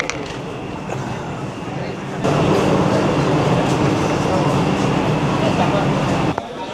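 Vande Bharat sleeper train arriving at Kamakhya Junction, heard from inside as a steady rail rumble that grows louder midway, then drops abruptly near the end.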